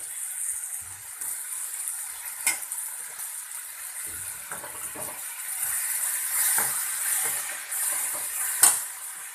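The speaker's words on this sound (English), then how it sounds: "Once the onion is cooked this much, now I am adding tomatoes." Tomatoes frying in a pan with cooked onions: soft, steady sizzling with occasional stirring scrapes and clicks, fairly close and moderate in level, with no one talking.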